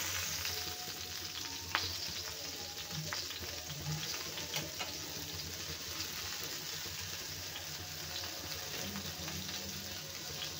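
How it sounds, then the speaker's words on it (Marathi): Surmai fish pieces frying in hot oil in a pan, a soft continuous sizzle with occasional faint clinks and stirs, heard close and with no talking. "तर बघा फिश मस्त फ्राय झालेली आहे"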